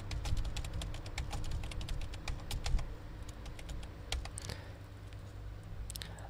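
Fingers tap out an address on a computer keyboard while filling in an online disability card application, producing quiet, rapid, irregular key clicks with brief pauses, close by and with no talk.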